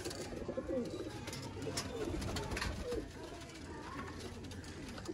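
Breeder pigeons, a Sialkoti pair among them, coo softly and repeatedly close by, mixed with low background noise and faint voices.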